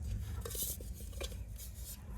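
A metal cooking pot clatters and scrapes in a busy household during a Gujarati horror film, with repeated knocks and clinks of metal over a steady low rumble.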